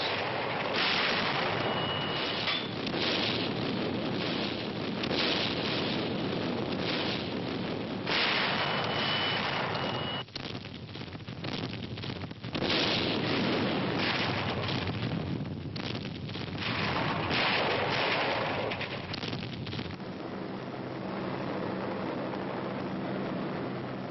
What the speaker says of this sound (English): Daybreak. The naval bombardment continues.